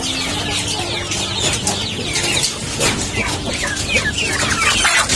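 Month-old Brahma chicks, kept without a heat lamp, peep in a dense, busy chorus of high chirps that stays close and loud throughout.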